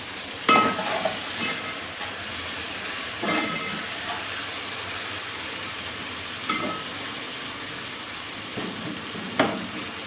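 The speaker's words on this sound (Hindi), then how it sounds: "अब हम इसमें टमाटर डाल देंगे और इनको सौते कर लेंगे।" Tomatoes sautéed in a pan for aloo palak sizzle steadily, with a few sharp clinks and scrapes of stirring spaced through.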